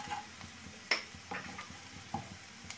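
Spices such as turmeric being stirred into onions frying over medium flame for egg malai curry, with soft sizzling and a few light scraping clinks of a spoon against the pan, close and fairly quiet, no talking.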